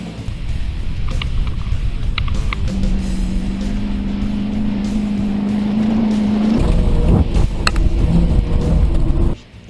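A race car engine on a dirt track bogs down in soft dirt, a loud, close droning note that holds and creeps upward in pitch, then shifts to a harsher roar before cutting off abruptly at the end.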